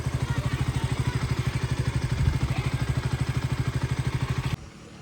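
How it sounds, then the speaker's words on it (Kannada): A small motor scooter engine idles nearby with a steady, rapid putter, then cuts off abruptly near the end. "ಇದು ನನ್ನ ಸ್ಕೂಟಿ"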